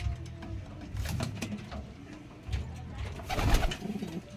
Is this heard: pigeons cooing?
yes